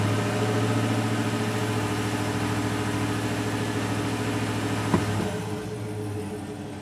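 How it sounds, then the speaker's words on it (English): A 2019 Chevrolet Silverado with an 8L90 transmission held under power braking, its engine droning steady and loud up close. It drops back toward idle near the end, with no voices. "I'm gonna do just a little bit of power braking and bring it up to the temp that I want"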